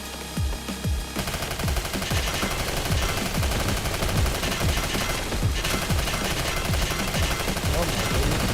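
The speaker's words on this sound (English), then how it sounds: "Submachine gun it is." Submachine gun firing in the video game Snezhinka: Sentinel Girls 2, rapid bursts of shots rattling continuously for several seconds, loud and close.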